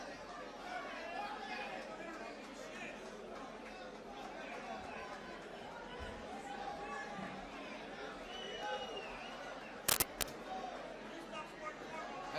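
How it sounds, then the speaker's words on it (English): Crowd at a sold-out boxing championship event murmuring and chattering while waiting for a decision, a dense babble of many voices with a couple of sharp bursts, distant and steady. "you can hear the majority of this crowd still firmly behind Marcus Portillo"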